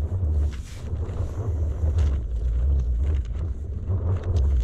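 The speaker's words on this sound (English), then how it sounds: "The wind is still doing my head in," Gusty wind buffets a winter wild camp on a hill in mid Wales, a deep constant rumble on the microphone with surging gusts throughout.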